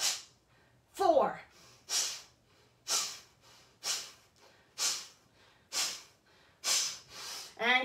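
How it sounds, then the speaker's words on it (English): Forceful breathing exercise during a yoga flow: a regular series of sharp, loud nasal exhales and inhales, about one per second, close and clear with no talking over them. "Nice deep breath in and exhale, exhale."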